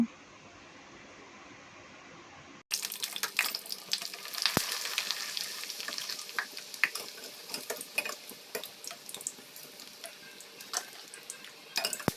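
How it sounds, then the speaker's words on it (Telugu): Papad chips frying in hot oil in a pan make dense, crackling sizzles with sharp pops scattered through them. The frying starts abruptly after a short quiet hum and carries on steadily close up. "ఆయిల్ హీట్ అయిన తర్వాత చిప్స్ అయితే వేసుకొని అయితే వేపుకుంటాను"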